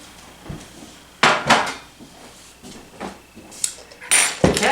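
A dish is set down on a kitchen countertop with a few clattering knocks and clinks among quieter handling sounds, close and moderately loud, with no speech.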